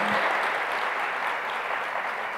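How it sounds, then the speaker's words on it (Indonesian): A church congregation claps together in loud, dense, sustained applause that fills the room without pause. "Tepuk tangannya boleh yang meriah buat Tuhan kita yang luar biasa."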